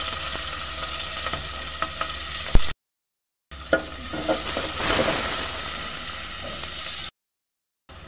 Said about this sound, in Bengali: এখন দিয়ে দিচ্ছি পেঁয়াজ, কাঁচামরিচ ও রসুন থেতে করে রাখছিলাম সেটা।